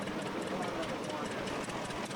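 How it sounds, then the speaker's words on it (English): A 1928 John Deere D tractor chugs along in a 2001 centennial parade in Plum Coulee, Manitoba. Its steady, rhythmic low engine pulse sits under constant outdoor crowd noise at moderate distance. "The 1928 D John Deere tractor"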